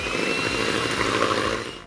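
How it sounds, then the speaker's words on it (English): An electric hand whisk whips egg whites to soft peaks for a chocolate Christmas pudding soufflé, with a steady, loud motor whirr and a faint high whine running the whole time and no talk. "what we're going to do now is whisk up our egg whites to soft peak."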